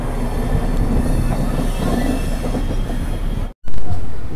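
The 12821 Dhauli Express from Shalimar to Puri rumbles loudly through a heavy curve, wheels grinding and squealing on the rails in a continuous close roar, broken by a brief dropout near the end.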